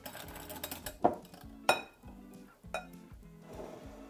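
A spoon stirring milk with activated yeast in a bowl, giving a few clear clinks against the dish among soft scraping, close and quiet with no talking.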